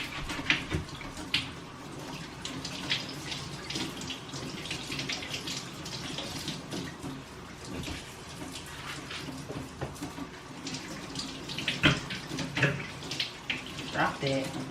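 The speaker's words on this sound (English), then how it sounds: "So I'm going to rinse these two and put them in the pot." Tap water runs steadily into a sink while Italian sausages are rinsed, a constant close hiss and splash with occasional knocks and handling noises, and faint talk underneath.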